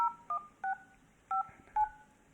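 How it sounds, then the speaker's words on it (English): Telephone keypad dialing tones, five short distinct beeps in an uneven rhythm, clear and close against a quiet background with no talking. "I'm gonna try Richard's phone number and see if I can speak to Richard's voice."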